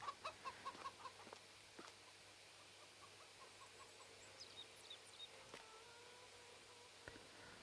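Chickens in the Farming Simulator 22 video game cluck faintly and distantly, with a short run of soft repeated clucks at the start and then sparse quiet calls over a low background.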